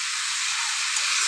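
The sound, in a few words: chopped tomato added to sizzling chicken curry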